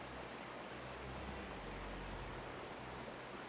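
Water rushes along a water slide in Final Fantasy XIV, a dense, steady wash of flowing noise with a low rumbling undertone, continuous and unbroken throughout.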